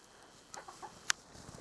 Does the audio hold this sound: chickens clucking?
yes